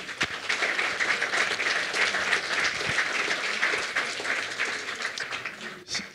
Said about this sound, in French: je crois qu'on peut applaudir Johan